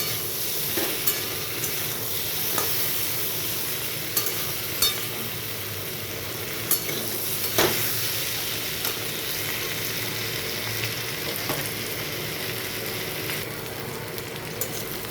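Mixed vegetable curry with prawns sizzles and fries steadily in a pan, with scattered clicks and scrapes of stirring over a continuous hiss throughout, no voices.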